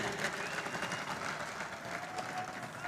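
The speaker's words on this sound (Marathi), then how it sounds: "निष्ठावान या शब्दावर किती टाळ्या पडल्या पहा" Sustained applause from a large crowd at an outdoor political rally in Thane, steady and dense clapping with a murmur of voices throughout, moderately distant and continuous for the whole stretch.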